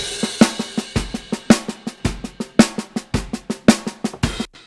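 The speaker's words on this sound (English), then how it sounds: "So the snares and the overheads and rooms sound like this." Snare drum picked up by overhead and room microphones in a mix, struck in a steady, even rhythm of sharp cracks with ringing room decay, a couple of hits per second, close and alone.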